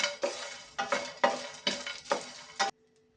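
Whole spices such as cardamom, cinnamon, mace, cloves and bay leaf stirred in a hot pan for Kabuli pulao, giving five rhythmic scraping, sizzling strokes close up, then quiet.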